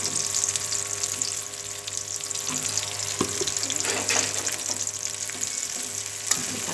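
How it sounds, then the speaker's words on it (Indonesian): Shallots, garlic, chili, lemongrass and bay leaves sautéing in reused frying oil, a continuous close sizzle with occasional stirring scrapes and clinks. "Kita tumis sampai baunya harum."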